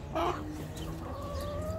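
Chickens clucking on a farm visit, a couple of short, close, harmonic clucks early on, then softer drawn-out bird calls over a steady outdoor background.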